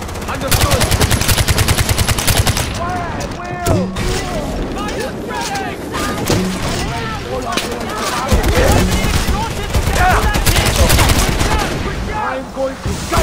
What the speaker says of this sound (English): Got the machine gun!